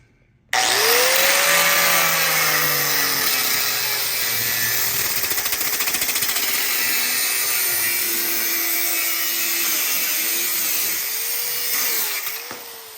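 A power tool slices through the seat mounting bracket of a 1988-99 Chevy/GMC OBS truck, loud and continuous for about twelve seconds with shifting whine as the blade bites, starting abruptly and tapering at the end.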